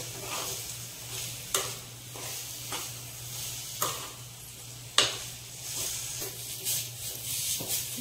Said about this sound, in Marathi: आणि आपलं जे मिश्रण होतं ते यामध्ये घालून घ्यायचे आणि छान परतून घ्यायचे